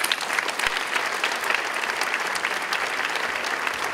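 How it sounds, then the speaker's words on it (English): Steady, dense applause from a large audience at a Turkish-American award gala, a continuous wash of many hands clapping with no talk over it. "So let us thank them and give them a big applause."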